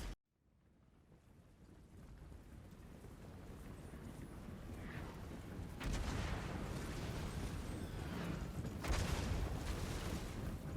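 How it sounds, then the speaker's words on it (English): Mortar artillery fire during a Total War: Warhammer 2 battle, heard as a steady rumbling roar of distant blasts that swells louder around the middle and again near the end, with no talk over it. "Oh, God, they've got a bloody mortar."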